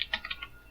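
Computer keyboard keys tapped while entering a server restart command, a few quick light clicks close by in a quiet room, fading to silence.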